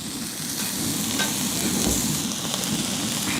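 Chicken heart skewers fry on a large cast-iron cauldron lid with a steady close sizzle and crackle of hot oil that runs the whole time, with no talking.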